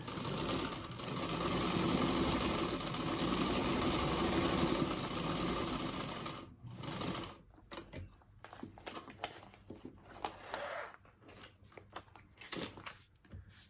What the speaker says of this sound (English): now we're going to sew just on the line